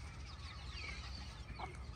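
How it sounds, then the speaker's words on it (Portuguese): Free-roaming chickens cluck softly outdoors in a farm setting, faint and somewhat distant over a steady low background rumble. "Olha as galinhas."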